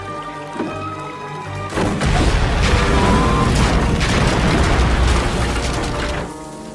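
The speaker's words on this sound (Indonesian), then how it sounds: "inilah yang terjadi yaitu ledakan yang dahsyat" A huge explosion booms and roars, followed by a sustained rumbling crash with debris that slowly fades out.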